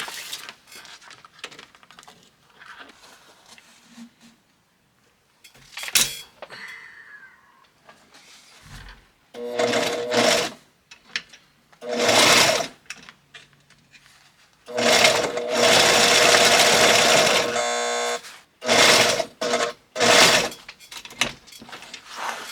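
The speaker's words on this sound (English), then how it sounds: "we're going to sew this up right now before we do our French seam" Sewing machine stitching upholstery fabric for a classic car armrest, running in several loud bursts of a few seconds each, separated by quiet pauses.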